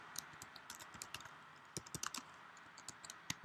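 Quick bursts of keystrokes on a computer keyboard while working in a terminal, crisp close clicks in irregular clusters, quiet and alone.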